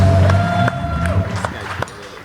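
A podcast studio audience greets guest Phillip Garcia with a short burst of cheering and clapping, lively and close, mixed with scattered whoops and sharp claps that fade over a couple of seconds.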